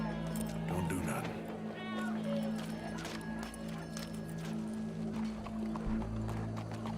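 Horse hooves approaching in the Red Dead Redemption 2 video game. Steady clip-clop beats sit within a busy game scene under a constant low hum, with voices murmuring in the background.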